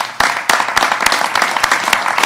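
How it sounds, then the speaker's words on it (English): An audience at a farm funding announcement with the Massachusetts governor bursts into applause, loud dense clapping with sharp individual claps standing out, sustained throughout. "a round of applause"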